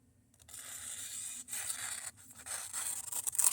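A cheap Temu cutting tool rips through notebook paper in rough, close tearing strokes, with short pauses between scraping bursts and no voices.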